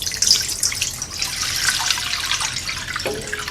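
About 1.5 litres of water pours into a pot to make anchovy and kelp broth for Korean bean sprout soup, a close, continuous splashing gush with a bright rushing texture that shifts in tone near the end.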